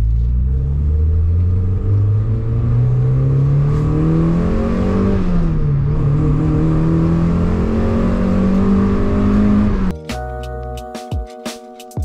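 A freshly rebuilt car engine with a new six-puck clutch and gearbox revs up steadily while driving, a loud close drone climbing in pitch, easing briefly, then rising again before cutting to clatter.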